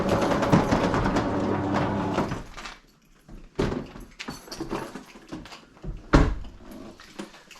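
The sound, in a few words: slow doors opening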